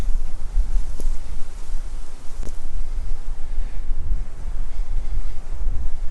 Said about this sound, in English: gosh, this wind is killer. there's a front coming through